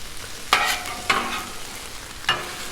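Cheesesteak filling fries on a Blackstone griddle in a continuous close sizzle, broken by three sharp scraping strokes of a spatula on the flat top, with no talking.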